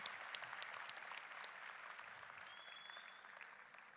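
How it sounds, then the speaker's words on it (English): Audience applause at an event, a steady wash of many hands clapping throughout, moderately loud with a faint whistle partway through and no talking. "I think we should have gotten a louder round of applause for him"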